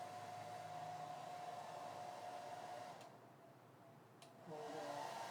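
A hair dryer blows close by with a steady whooshing roar that drops lower briefly, clicks between settings, then blows strongly again.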